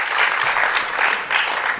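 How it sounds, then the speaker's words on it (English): Conference attendees at an Affiliate Summit East 2012 keynote applaud, a loud, dense and continuous wash of many hands clapping with slight swells, heard alone without speech. "Give yourselves a round of applause"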